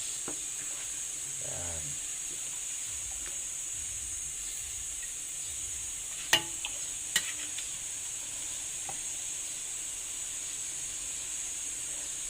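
Shrimp paste (bagoong alamang) sizzles softly in a pan as it is stirred and cooked, a steady hiss with occasional scraping stirs and a couple of sharp clacks.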